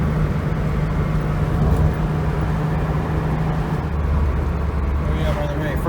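A Porsche 911 drives for the first time after ten years in storage, with a steady, loud engine and road rumble throughout and faint wind noise, heard from inside or near the car.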